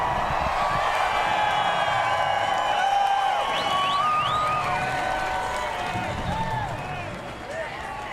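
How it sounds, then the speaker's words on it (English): A crowd at New Hampshire Motor Speedway roars and whistles after a NASCAR Cup Series win, a dense cheering swell that fades slightly toward the end, with commentary voices talking over it. "now he climbs out and the crowd roars"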